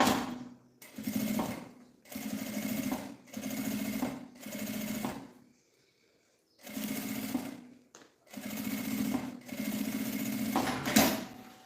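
Sewing machine stitching the top seam of a handbag with a general-purpose presser foot, running in repeated loud bursts of rapid needle clatter separated by short pauses, close up and with no talking.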